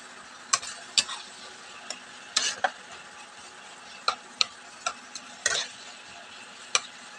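Water goes into a pan of frying spice masala with tomatoes and is stirred, a low sizzle running beneath sharp, irregular clicks and scrapes of the spoon against the pan, close and fairly crisp.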